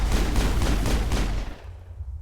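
Dense, rapid gunfire with heavy booming bursts in a Mass Effect firefight, loud and continuous for over a second before cutting off into a lower rumble.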